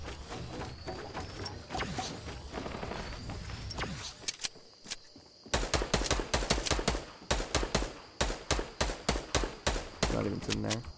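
Fortnite gunfire: a steady stream of rapid shots, then after a brief lull a loud run of regular, evenly spaced close-range shots with mechanical clatter.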